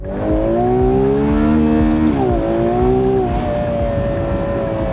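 The V12 of a Ferrari 12 Cilindri Spider revs hard, its loud, close engine note climbing, dipping slightly and climbing again, then settling into a sustained high howl.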